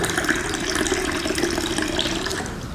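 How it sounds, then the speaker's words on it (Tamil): Water poured from a vessel into a 200 ml tumbler, a steady continuous splashing trickle running the whole time, close and fairly loud with no talking. "இதில் 200 ml தண்ணி ஊற்றுறேன்."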